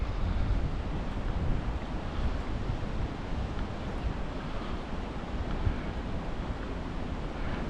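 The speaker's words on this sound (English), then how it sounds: "I did not realize it was going to be this windy." Strong wind buffets the microphone in a constant low roar, with a faint wash of surf beneath it and no speech.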